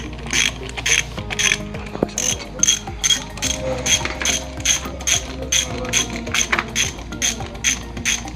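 Rapid, steady ratchet clicks as a wrench tightens the bolt holding the front transmission pulley on an Indo Jarwo walking rice transplanter, the metallic ticking repeating evenly in quick strokes, loud and near.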